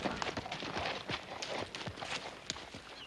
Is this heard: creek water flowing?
no